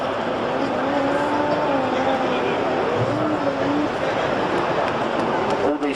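Racing motorcycles, a Kawasaki and a turbocharged Suzuki, on a track during a race final; a loud sustained engine drone with shifting pitch as the bikes run, heard from a distance over crowd and commentary noise.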